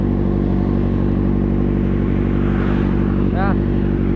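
Big bike motorcycle engine idling and revving loudly and continuously up close, with someone talking over it and a brief squeal near the end.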